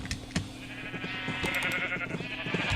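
Sheep bleating in the video game Agrarian Skies, a wavering, nasal bleat running for a couple of seconds over steady game ambience and a few soft clicks.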